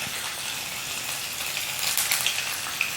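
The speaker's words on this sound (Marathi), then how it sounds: "तेल आपलं तापलेलं आहे. एक एक पनीर आपण सोडून घेणार आहे" Paneer pieces shallow frying in hot oil on a low flame for paneer tikka, a steady close sizzle and crackle that holds throughout with no voices.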